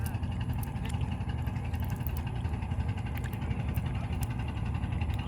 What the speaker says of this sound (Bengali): ট্রলার যাচ্ছে